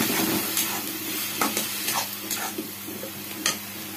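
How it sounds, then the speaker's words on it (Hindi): Bitter gourd (karela) stir-fried in a pan, a steady close sizzle broken by scattered sharp scrapes and stirring knocks, with no talking. "तो भून लेते हैं अच्छी तरह से"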